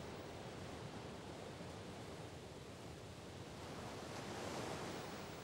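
Strong rushing river current roars steadily and loudly throughout, a dense, unbroken wash of noise like a powerful current.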